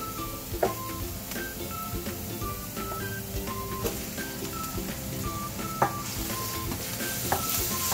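Minced pork and onion frying steadily in a pan, with a constant close sizzle, occasional utensil clicks and a few faint beeping tones in the background.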